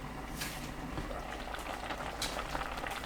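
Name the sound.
sweet potato and aged kimchi stew boiling in a covered pot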